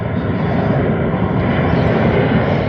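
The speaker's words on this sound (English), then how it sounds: "Another airplane, guys." An airplane flies overhead outdoors, a steady low roar and rumble that fills the whole stretch at fairly loud level with no talk over it.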